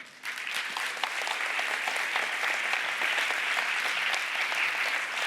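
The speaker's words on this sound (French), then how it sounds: "On peut déjà les applaudir." Sustained audience applause at a university science communication contest final as jury members head to the stage, dense and even from start to finish without voices.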